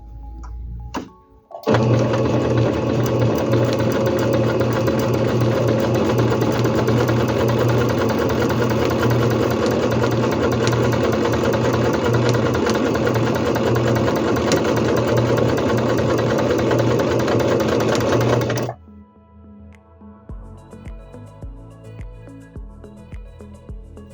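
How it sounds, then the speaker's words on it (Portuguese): Singer C5605 electronic sewing machine stitching a seam, a loud steady motorized whir with fast needle rhythm running close for about seventeen seconds, then stopping to quieter handling sounds. "E vou fazer uma outra costura com a tensão da linha ajustada."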